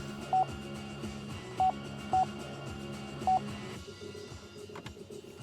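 Touch-tone dialing on a 2018 Chevrolet Equinox infotainment phone system: four short, clear beeps at uneven intervals over a low electronic hum, with no talking.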